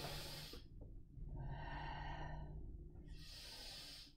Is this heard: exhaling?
yes